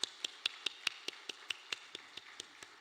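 Hands clap in a steady, even rhythm at a church worship service, about five beats per second, fairly faint and distant in the room.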